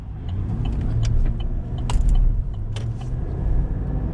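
A 2020 Chevrolet Silverado 2500HD with a 6.6-liter gas engine drives steadily with a low, continuous engine and road rumble, alongside a few light clicks and rattles in the cabin.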